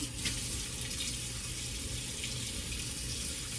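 A kitchen tap runs steadily while it warms up to hot, a constant rushing stream of water close by with a low hum underneath and no talking.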